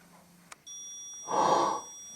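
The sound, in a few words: alarm going off during a ghost hunt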